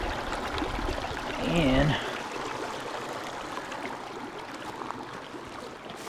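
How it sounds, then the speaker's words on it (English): A stream of running water at an outdoor nature spot, a steady broadband rush heard up close, with a brief spoken word and a louder burst early on before the flow continues evenly. "I got the stream here."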